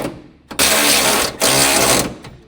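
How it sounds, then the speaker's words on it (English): An electric impact wrench with a 10mm shallow socket drives in the upper radiator support bracket bolts on a 2006-2015 Honda Civic, two loud, close bursts of rapid hammering, each under a second long. "Use a medium 10mm shallow socket with an electric impact wrench."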